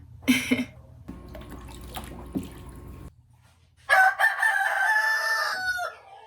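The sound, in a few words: rooster crowing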